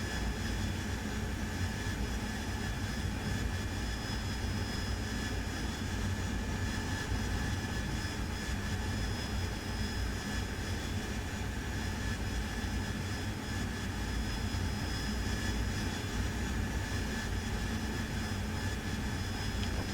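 Steady, continuous jet engine roar of an AV-8B Harrier in the DCS World flight game, holding a loud, unbroken drone with no talk over it.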